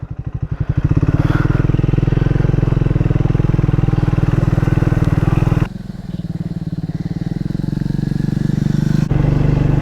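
A Scrambler motorcycle of about 400cc rides through potholes and water, its engine a loud, steady, close throb with a brief dip and shift midway, no talk over it.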